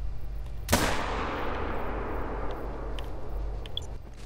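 A single loud hunting rifle shot in a moose-hunting video game, a sharp close crack followed by a long rolling echo that fades slowly over several seconds, with faint game ambience beneath.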